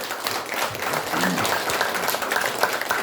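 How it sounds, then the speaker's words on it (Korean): An audience at a launch ceremony for an honours-promotion committee claps for a writer, a moderately loud, steady patter of many hands with faint voices mixed in. "뜨거운 박수로 황 작가님을 응원해 주십시오"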